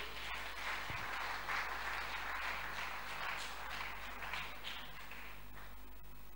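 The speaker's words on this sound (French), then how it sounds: "Est-ce que nous pouvons acclamer pour cette parole?" Church congregation applauding after a sermon, a sustained wash of many hands clapping at moderate distance, swelling slightly midway and continuing without talk over a low steady hum.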